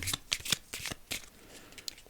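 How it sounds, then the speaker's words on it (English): A deck of cards from an end-of-life card set is riffle-shuffled up close, giving a quick series of crisp fluttering bursts and snaps with short pauses between them. "I'm going to shuffle these up here."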